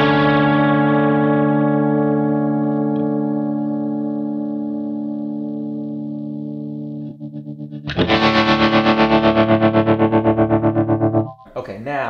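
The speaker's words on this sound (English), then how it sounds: "here's a vibrato, and I'm going to turn it on" A Kemper guitar amp's vibrato effect set to a fast rate: a sustained warbling guitar chord fades out, then a loud pulsing, distorted chord throbs rhythmically before cutting off abruptly.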